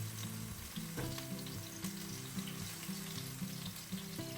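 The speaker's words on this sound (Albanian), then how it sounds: "në një tigan do të hedhim pak vaj dhe do të skuqim 2 deri në 3 qep të njomur" Soaked onions frying in a little oil in a pan, a steady close sizzle with light crackling throughout and a few soft clinks of stirring, no voices.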